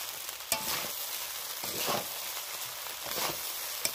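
Homemade fried rice with soy sauce being mixed and stir-fried in a hot pan: continuous sizzling with repeated spatula scrapes and a couple of sharp metallic taps, close and fairly loud, no talking.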